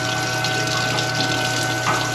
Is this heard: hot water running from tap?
yes